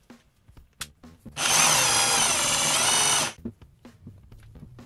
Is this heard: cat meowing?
no